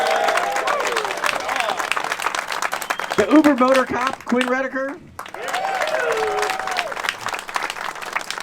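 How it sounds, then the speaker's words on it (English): Audience applause at a 2024 motorcycle event, a burst of clapping from a crowd that fades midway and swells again, while someone speaks over a loudspeaker. "If we can, let's get a round of applause for Andre from Moto Ventures."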